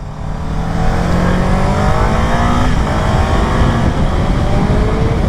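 Kawasaki Ninja 7 Hybrid motorcycle riding at speed, with a loud, steady engine drone and rising and falling gear-pitch sweeps as it accelerates, plus strong wind rush throughout.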